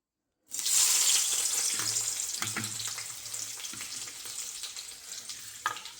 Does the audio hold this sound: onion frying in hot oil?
yes